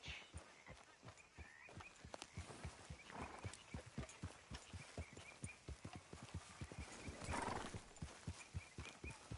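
Steady clip-clop of horse hooves at a walking pace, with a horse whinnying partway through, moderately loud and close.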